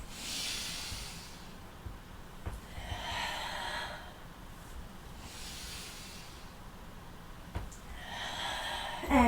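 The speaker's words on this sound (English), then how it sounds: "Deep cleansing breaths." Slow, deep breaths during a yoga class, several breathy exhale-like hisses rising and falling at steady intervals, close and soft with no talking.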